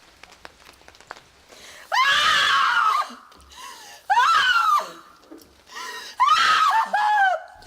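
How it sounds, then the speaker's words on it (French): Haunted-attraction extras being coached to scream in pain let out three loud, drawn-out screams separated by short pauses, close and clear. "Je vais vous demander d'ouvrir les yeux et de crier de douleur."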